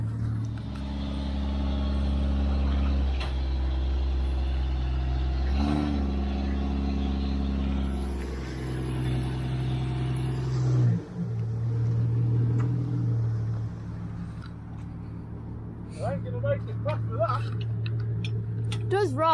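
A vehicle pulls away towing a trailer on a temporary tow bar over a muddy track, its engine droning steadily and close with a revving surge partway through, then easing off as people talk over it.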